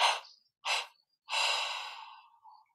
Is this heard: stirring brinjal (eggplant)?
no